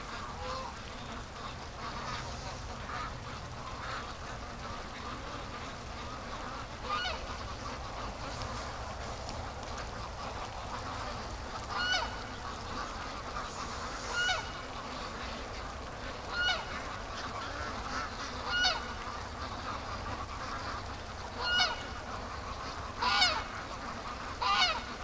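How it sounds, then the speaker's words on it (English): Ducks quacking and honking at a distance, scattered calls repeating over a steady outdoor background hum. "Ducks coming home."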